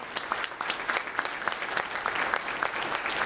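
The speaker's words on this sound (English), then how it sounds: "give everybody a applause tonight" A graduation audience gives a burst of applause, dense clapping from many hands that holds steady and fairly loud throughout, with no talking over it.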